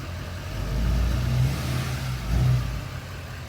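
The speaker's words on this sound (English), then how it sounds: "Next step is we need to hop this curb with the back tire." A giant truck's engine revs in two strong swells as it hops a curb with the back tire, the deep drone rising and falling, close by, with no talking.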